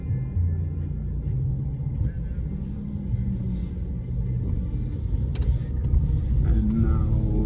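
Car driving through city streets in Belgrade, a steady low engine and road rumble heard from inside the vehicle, continuous and moderately loud, with light traffic noise around it.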